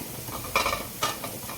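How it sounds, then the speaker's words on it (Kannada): Garlic frying with a little oil in a pan while being stirred, a steady soft sizzle with two brief louder bursts of stirring, close and alone with no talk. "ಇದನ್ನು ಸ್ವಲ್ಪ ಫ್ರೈ ಮಾಡ್ಕೊಳ್ಳೋಣ ಚೂರು ಎಣ್ಣೆ ಹಾಕೋತಿದ್ದೀನಿ"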